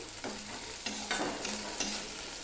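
Tomato and green chilies fry in a pan for a crab dish, a soft steady sizzle with three or four rhythmic scraping strokes of stirring, fairly quiet and with no talk.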